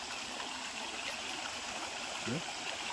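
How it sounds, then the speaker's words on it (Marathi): A waterfall during a fishing outing in the Konkan countryside pours with a steady, full rushing roar that fills the whole short stretch without a break. "वॉटरफॉल"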